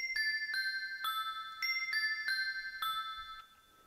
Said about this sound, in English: Your crystal bells.